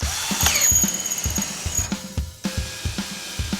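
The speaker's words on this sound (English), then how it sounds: "We'll start by drilling out all the factory spot welds" A power drill whines and squeals drilling out factory spot welds on a 1965 Mustang body, with repeated short bursts and clicks as the bit grinds through the metal, close up.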